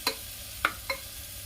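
Sambhar masala frying in a pan: three quick metallic scrapes of a stirring spoon over a faint, steady sizzle.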